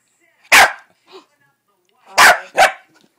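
A dog barks loudly once, gives a soft huff, then lets out two quick barks in a row.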